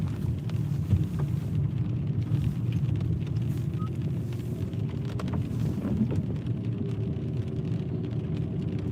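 Steady rain falls outdoors as a continuous broadband hiss, with a low rumble underneath, like passing traffic on a wet road, throughout; no voices are heard.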